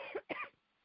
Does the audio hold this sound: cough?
yes